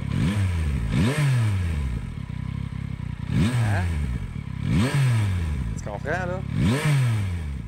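A 2024 Yamaha MT-09 motorcycle engine revs repeatedly, about five sharp throttle blips rising and falling in pitch, loud and close, with brief idle between.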